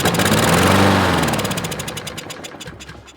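An old lawn mower engine, primed with carburetor cleaner, catches and roars loudly up close for a moment, then sputters into slowing, uneven pulses as it dies away.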